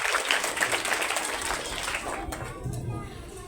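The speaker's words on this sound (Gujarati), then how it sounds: "એ શિક્ષક માટે એક જોરદાર" Young schoolgirls at a girls' primary school clap for their teacher in a lively burst of applause that gradually thins out, with voices and crowd chatter mixed in underneath.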